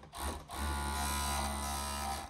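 A sewing machine runs a seam on a shirt, a close, steady motor whir with a brief stop and restart at the start, then continuous humming stitching.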